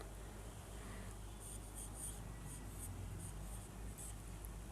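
Sanskrit letters, including conjunct forms, written by hand, faint short scratchy pen strokes in quick bursts over a quiet room hum, no one talking.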